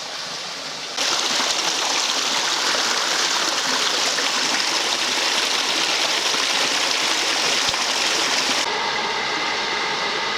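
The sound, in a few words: little waterfall by a footbridge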